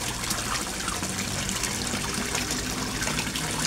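Resun aerator pump in a koi fish tank, with dense, continuous bubbling and water churning, fairly loud and close, holding steady throughout with no talk.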